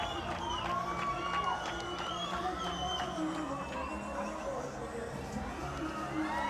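Crowd cheering at a Tamil Nadu Premier League cricket match in a stadium, a steady wash of shouts, whistles and excited voices with some children's shouts, continuous and moderately loud.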